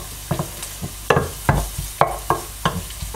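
Masala paste for a surmai fish dish frying crisp in a pan, heard as sharp intermittent scraping and stirring strokes over a soft sizzle, close and fairly loud, with no talk.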